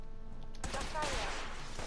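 Gunfire erupts during a Fallout 4 firefight, a sudden dense burst of rapid shots that starts after a quiet moment and keeps rattling close by, with a voice speaking briefly amid the shooting.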